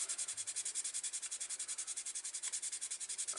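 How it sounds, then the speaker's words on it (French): Close, rapid rhythmic sanding strokes on a DS 21 Pallas scale model car body, a steady hissing rub repeating about ten times a second without pause. "Faut poncer."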